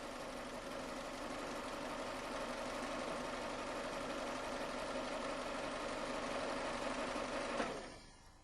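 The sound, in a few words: Toyota car engine idling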